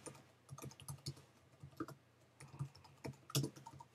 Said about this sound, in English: And then you type in the title text.